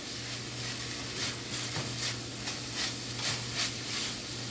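Black garlic, black pepper and seasoning being stirred around a hot pan for a vegan mango sloppy joe, a soft steady sizzle with faint scraping strokes that come and go.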